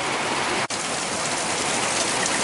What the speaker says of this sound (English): You can see the rain. Or I don't know if you can see the rain, but you can see the fogginess out there. It's really coming down.